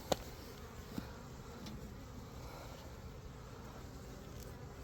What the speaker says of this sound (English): The good news is bees are looking alive again on this hive.